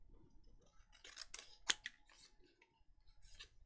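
Paper for a junk journal is cut with scissors close by: a few quiet snipping strokes with one sharp, distinct snip in the middle.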